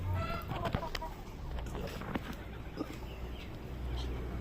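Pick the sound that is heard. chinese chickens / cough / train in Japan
chinese chickens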